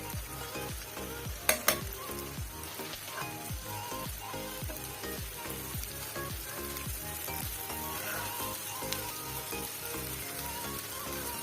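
Garlic and green chillies fry in a pan, a continuous crackling sizzle close up with spitting pops throughout, steady and moderately loud, with a couple of sharp clicks early on.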